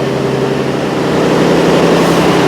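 The Anglo-Belgian diesel engine that drives the paddles of the paddle steamer PS Mahsud runs close and loud, a dense, steady low rumble with a throbbing mechanical drone and no pauses.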